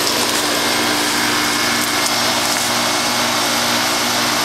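A 1996 Carrier 5-ton straight-cool air conditioner runs outdoors in cold February weather with a steady, loud broadband whoosh of fan and compressor, unchanging throughout and with no voices.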